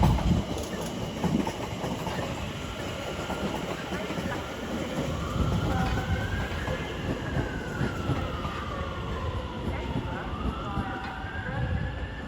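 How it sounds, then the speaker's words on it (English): A London Overground Class 710 electric unit pulls into London Euston, its rising and falling traction whine sliding over a steady rail rumble and wheel clatter, with station ambience and a faint voice in the background. "Incoming now will be a terminating London Overground service from Watford Junction in the form of 710"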